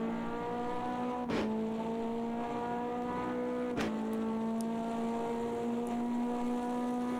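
Race car engine in the sim racing game Automobilista 2 at Le Mans at night, a continuous high-revving whine with steady pitch and two short gear-shift blips, fairly loud and alone without talk.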